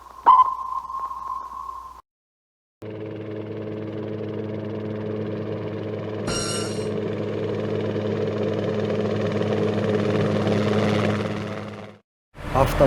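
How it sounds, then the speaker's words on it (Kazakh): A submarine sounds a single sonar ping, then a low, steady engine hum swells and holds loud for about nine seconds before stopping suddenly. "Сүңгуір қайық."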